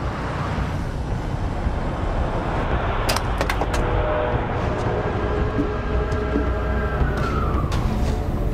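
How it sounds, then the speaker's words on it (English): A police car siren wails from behind over steady road rumble, its tone sweeping up and down while the vehicle's engine and tire noise drone on. "John, there's a police car behind us."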